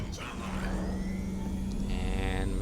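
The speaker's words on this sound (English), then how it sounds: "Turn the engines on." Spaceship engines in Star Citizen spool up, a steady low hum with rising whines layered on top, continuous and fairly loud with no talk over it.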